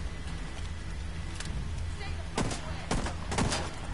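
Shotgun blasts in the video game The Division 2, three or four sharp, booming shots in quick succession near the end, over a steady game background with a voice speaking.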